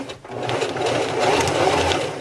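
A domestic sewing machine stitches a drawstring backpack with a close, continuous mechanical whir that runs steadily without pause.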